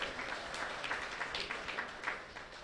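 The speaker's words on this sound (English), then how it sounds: "a big round of applause for all of our speakers who've generously donated their time here today" An audience applauds the speakers at a talk on social media metrics and measurement, a steady wash of clapping throughout.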